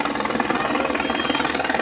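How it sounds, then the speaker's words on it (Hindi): A passenger helicopter carrying pilgrims flies overhead in the hills, its rotor giving a loud, steady pulsing chop throughout the short stretch. "तो अभी यहाँ पे हेलीकॉप्टर भी आ गया है यात्रियों का।"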